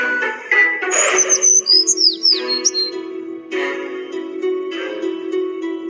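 A bird chirps in a short series of quick high tweets over a steady musical backing, fairly loud and close, with no talking.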